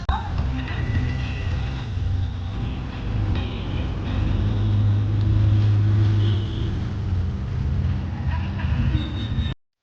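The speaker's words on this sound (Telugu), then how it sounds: "మేము ఇప్పుడు ఢిల్లీ టు వైజాగ్ ట్రైన్ లో ఉన్నాను" Inside a moving passenger train travelling from Delhi to Vizag, a steady low rumble and rattle of the carriage that swells slightly mid-way, with faint voices in the background.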